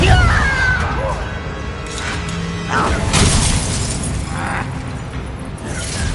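A Depulso force spell in the Hogwarts Legacy video game lands with a loud shattering crash and bursts of debris over a dense game soundscape, while a voice speaks at the same time.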